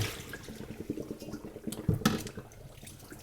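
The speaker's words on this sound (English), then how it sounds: "we're going to flip over our colander here and dump out the liquid." Wash liquid from flour being dumped out of a flipped colander into a sink during seitan making, a brief splashing pour with a couple of louder gushes amid soft drips and clatter, close by.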